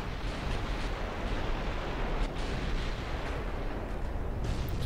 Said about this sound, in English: Getting lots of torpedo hits.